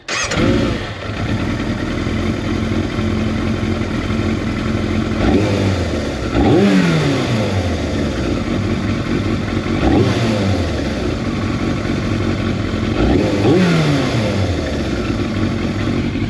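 Yamaha FZR600 Deltabox motorcycle engine starting and revving loud and close, with several throttle blips that rise and fall in pitch over a rough idle, one roughly every three to four seconds.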